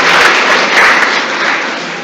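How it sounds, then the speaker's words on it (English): Applause from a conference audience for nursing students: dense, continuous clapping from many hands filling the hall at steady loudness, tapering slightly toward the end, with no talk over it. "So I would request the audience to applaud for our nursing students,"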